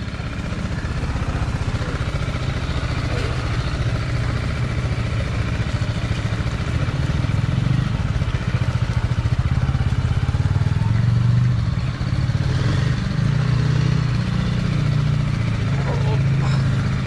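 A BMW G310R motorcycle rides over a muddy, badly broken road, its engine droning steadily and close throughout with low rumble and occasional clatter, and a voice speaks over it.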